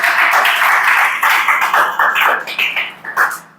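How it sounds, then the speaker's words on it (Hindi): Classroom students clapping loudly in a dense, sustained burst of applause for a few seconds, fading unevenly toward the end. "चला ताली बजाओ जोर से जी।"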